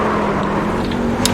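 A race pickup truck's engine in the iRacing sim at Charlotte drones steadily at high revs, a loud continuous hum with no talk over it.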